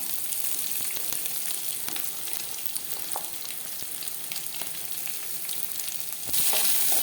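Onions fry in a pan with a steady, close hiss and crackle that runs the whole time and gets slightly louder near the end.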